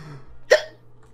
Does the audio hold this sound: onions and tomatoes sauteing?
no